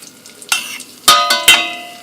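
A whisk strikes and scrapes around a pan holding a butter mixture in three or four sharp, close metallic bursts, with a faint sizzle in the quieter gaps.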